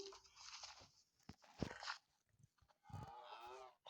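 A cow in a blocky survival video game lets out a few short synthetic moos amid clicks and crunching gameplay sounds, with no talk over them.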